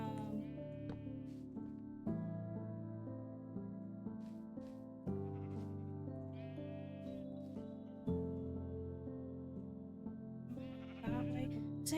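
Sheep bleat repeatedly in a farming video game, a string of steady, sustained bleats starting at regular intervals, faint and alone, with a few short higher sounds between them.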